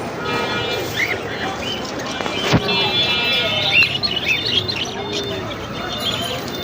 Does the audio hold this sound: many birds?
yes